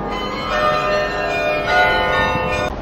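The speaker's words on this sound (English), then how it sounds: "And there are bells ringing." Bells ring steadily on a busy London street at Christmastime, their sustained metallic tones layered and overlapping, swelling twice before cutting off near the end.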